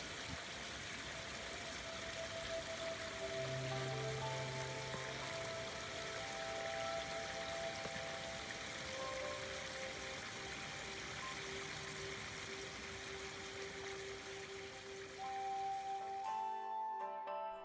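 Steady splashing and trickling of a garden waterfall in a residential garden, continuous and fairly even throughout with a few faint tonal chirps above it, no talk.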